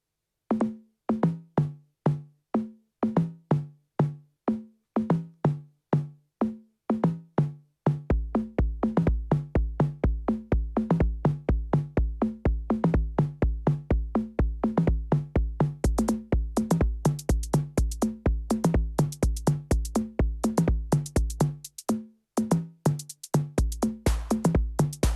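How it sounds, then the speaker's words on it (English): Funky conga beat programmed on a Korg Volca Drum from three conga sounds, sparse dry hits at first, then a dense steady groove with a low pulse and bright ticking layer joining in, playing alone without talk. "This one uses 3 conga sounds."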